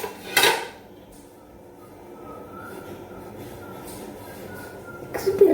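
A plate is pulled out from among stacked dishes in a home kitchen, a sharp ceramic clatter at the start and another near the end, with a quiet, faintly humming room in between.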